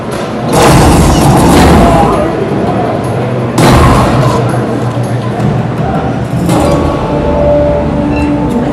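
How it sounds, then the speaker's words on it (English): An anti-gravity grenade going off in the video game Prey 2: loud booming blasts in a heavy rumbling wash, with two or three big surges over a sustained roar and a voice talking underneath. "I'm going to try another one of my gadgets, my anti-gravity grenade"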